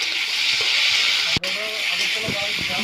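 Vegetables for a fish curry with flat beans, potato and tomato fry in hot oil in a pan, giving a steady loud sizzling hiss throughout with a brief break, small clatters and faint talk underneath.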